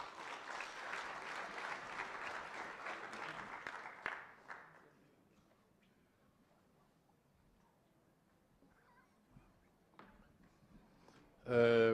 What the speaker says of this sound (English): A big round of applause for the chairperson.